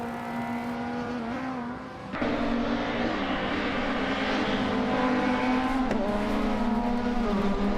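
A 2008 Toyota Corolla roars through a video game race, its engine note steady and loud with a strong sustained tone that shifts pitch as it accelerates, alongside other cars in the pack.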